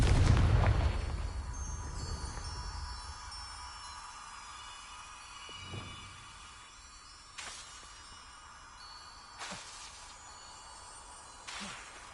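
A Confringo fire spell in Hogwarts Legacy blasts with a loud booming explosion that fades into a long rumbling tail, followed by a few sharper, quieter bursts spaced out later.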